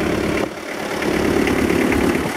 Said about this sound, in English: It's got a JDM, which is Japanese domestic market, 4-cylinder turbo diesel from an Isuzu Trooper that was transplanted in there